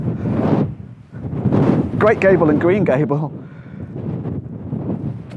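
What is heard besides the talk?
strong wind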